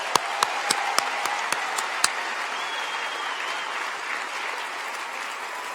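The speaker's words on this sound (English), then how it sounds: "Okay, some applause for landscape design and planning students." Applause for landscape design and planning graduates at a college commencement, a few sharp distinct claps up front blending into a soft, moderate patter of many hands that gradually dies away.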